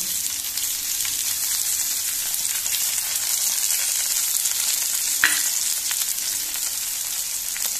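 Chicken pieces fry in oil in a pan over a low gas flame, giving a steady, close, dense sizzle throughout with one brief sharper clink or stir near the end.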